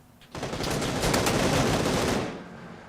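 Heavy automatic gunfire in the battle game PUBG erupts after a brief quiet, a loud dense burst of shots rolling on for about two seconds before cutting off.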